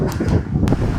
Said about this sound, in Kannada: ಇವಾಗ ನೋಡಿ ನಾಯ್ಸ್ ಕ್ಯಾನ್ಸಲೇಷನ್ ಆಫ್ ಮಾಡ್ತೀನಿ, ಗಾಳಿ ಹೆಂಗೆ ಬರುತ್ತೆ ನೋಡಿ